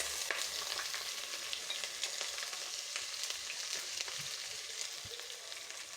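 Chopped onion goes into hot oil already spiced with cardamom, cloves and black pepper, crackling in an even, moderately loud sizzle with light stirring clicks.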